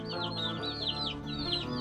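Chickens, including Ameraucanas and Barred Rocks, cluck and chatter nearby, with higher squawking calls from guinea fowl mixed in, a busy continuous flock sound with no voices.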